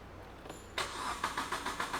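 A car engine is cranked after a sensor socket has been unplugged, so it never fires: the starter kicks in abruptly and churns in a steady rhythmic pulsing, moderately loud and close, with no speech.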